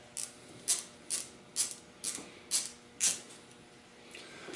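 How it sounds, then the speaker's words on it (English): A T25 Torx driver ratchets as it loosens motorcycle bar end weights on a Victory Vision, with six evenly spaced, sharp clicking strokes in close, quiet surroundings. "take off your stock bar end weights using a T25 Torx"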